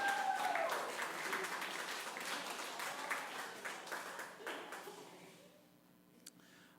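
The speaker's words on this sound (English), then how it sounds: "Round of applause." An audience claps at a storytelling event, a broad wash of applause that gradually thins and fades out to near quiet, with a last stray clap at the end.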